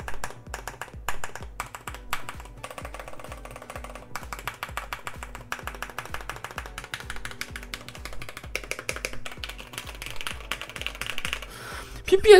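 Rapid, steady typing on a Corsair K65 Lux RGB mechanical keyboard with fully lubricated red linear switches and PPS keycaps: close, crisp keystrokes in continuous bursts with no voices.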